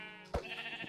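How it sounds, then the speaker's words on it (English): A sheep bleats once in the video game Minecraft, a short close burst standing out against a steady tonal game backdrop with no talk. "I thought that was just a weird gray blob, but it's a sheep."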